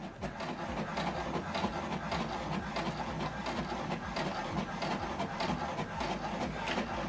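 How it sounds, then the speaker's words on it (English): An HP Deskjet 2820e inkjet printer runs through a document print, a steady close mechanical whir and chatter of the carriage and paper feed with soft rhythmic clicks, alone and at an even level. "Now it's printing the document."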